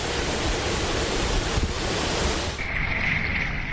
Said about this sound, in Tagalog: Binabayo ang mga puno ng malakas na hangin na tila sumisipol at humahambalos.